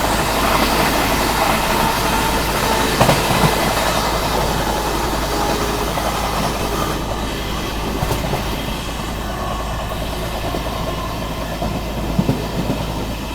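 The Poorva SF Express rolls along the rails with a continuous loud rumble and rattle, occasional clicks of wheels over joints breaking through the steady roar.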